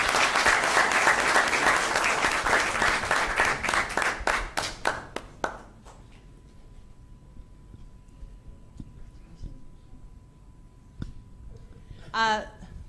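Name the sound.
applause at city council meeting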